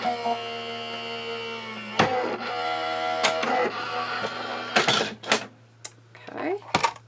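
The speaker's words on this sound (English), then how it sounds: "you're going to run it through your die cutting machine." A die cutting machine running card stock through on a platform for a handmade card, heard as a steady motor hum broken by sharp clicks and clunks, with a person talking close by.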